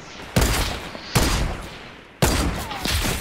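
Deadpool gun in the video game Fortnite firing three separate loud bursts, each a sharp attack trailing into a rattling echo, spaced under a second apart with no talk.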